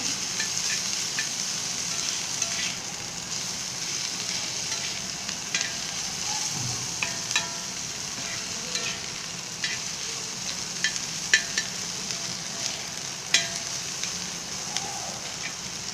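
Dried mola fish crackles in a pan as it fries, making a steady hiss with scattered sharp pops and ticks that run for the whole stretch at moderate loudness, and no one speaks.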